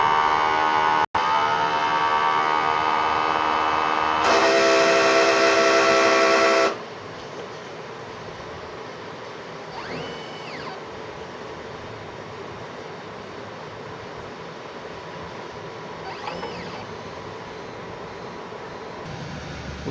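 A 60 cm DTF printer runs a print head cleaning cycle, with loud whirring pump and motor noise for several seconds, then a quieter steady mechanical hum with faint beeps and clicks, and no talking.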